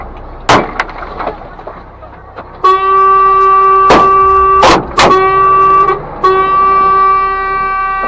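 Truck driving over tree branches piled across a road as a roadblock, with sharp wooden cracks and splintering snaps mixed with crunching, then a long sustained car horn sounding in bursts over the breaking wood.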